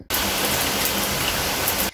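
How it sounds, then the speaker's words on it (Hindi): Heavy monsoon rain pours steadily at night during a power cut, a dense, continuous broadband hiss that fills the whole clip at close range with no voices. "अभी मूसलाधार बारिश हो रही है"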